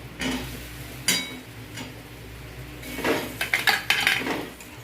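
Pre-fried potatoes being added to a cooking pan for a brinjal curry, with scattered metallic clinks of utensils against the pan and a quick cluster of scraping knocks near the end, close and fairly quiet.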